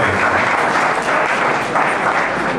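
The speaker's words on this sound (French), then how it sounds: "Sous vos applaudissements, quand même." Audience at a political party gathering applauding, a dense continuous wash of many hands clapping that stays loud and even throughout.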